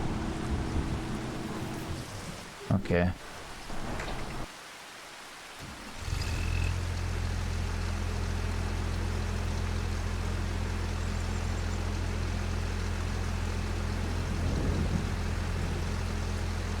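Rain falls steadily in Farming Simulator 25, a constant hiss under a low droning rumble that swells after a brief pause, with a single short spoken word near the start.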